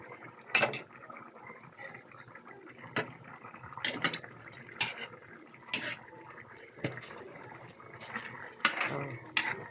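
Pots, pans and metal utensils clatter and clank in a home kitchen while chicken curry is cooked, sharp irregular knocks and scrapes spaced a second or two apart with quieter clinks between.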